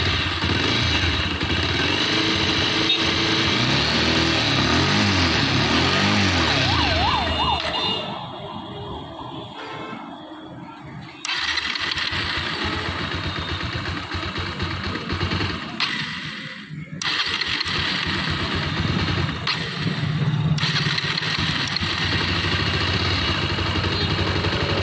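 A motorcycle engine starting and running on a lean fuel mixture, a loud, continuous rough engine sound with a brief dip in the middle, heard alone.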